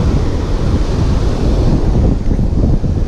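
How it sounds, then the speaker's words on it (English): Strong wind buffets the microphone on a California beach during surf fishing, a loud continuous roar with crashing surf underneath and no talking. "get ready for the wind"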